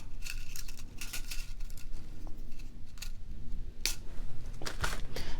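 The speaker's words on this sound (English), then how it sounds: "I'm going to take some 22 gauge artistic wire and cut a piece off" Wire cutters snipping 22 gauge artistic wire for earrings, a sharp close click standing out against a steady background hiss, with a few faint small clinks around it.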